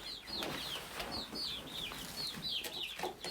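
Chickens in a coop give a run of high, repeated clucks and short chirpy calls, close and continuous over a busy background of scratching and movement.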